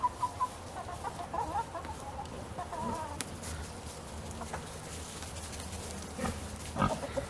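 Chickens cluck and squawk in short bursts over a steady outdoor rumble, with an occasional louder call standing out near the end.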